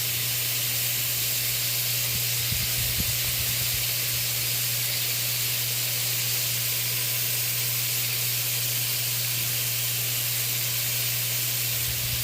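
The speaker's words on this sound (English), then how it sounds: "I will now go in with the red onions." Red onions going into a hot pan with smoked herring, giving a continuous hissing sizzle like steam, steady and close, with a constant low hum underneath and a brief clatter early on.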